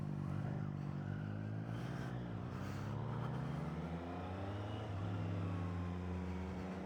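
A 2024 Triumph Street Triple motorcycle being ridden, its engine droning steadily and rising and falling in pitch as it pulls along, with continuous wind rush, loud and close throughout.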